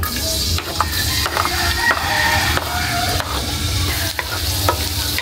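Pakbet vegetables cooked with bagoong sizzle loudly in a hot pan, stirred with repeated scrapes and knocks of the utensil over a constant close frying hiss.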